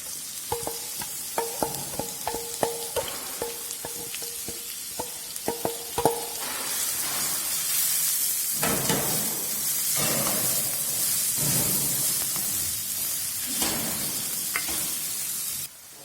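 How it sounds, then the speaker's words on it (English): Chopped onions fry in a pan with bay leaves and whole big cardamom, beginning with rhythmic clinks of a utensil against the pan and then giving way to a loud, steady sizzle broken by scraping stirs. "now we will add chopped onions"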